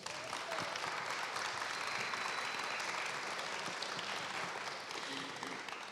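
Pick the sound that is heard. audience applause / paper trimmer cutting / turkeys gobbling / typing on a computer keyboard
audience applause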